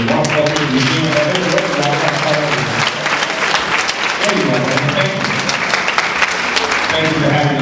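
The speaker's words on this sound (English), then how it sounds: "let's give one more round of applause to Belinda and the wonderful museum" A live audience gives a sustained round of loud, dense applause for Belinda and the museum, filling the whole stretch evenly.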